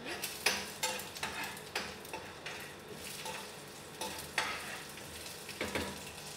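Food frying in a pan while a spoon stirs it, producing a steady soft sizzle broken by repeated metallic taps and scrapes at irregular intervals, close but fairly quiet.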